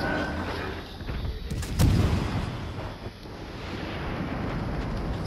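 Heavy naval gun salvo from a battleship firing at a destroyer in World of Warships Legends: a deep boom near two seconds over steady wind-like ambient rumble, moderately loud.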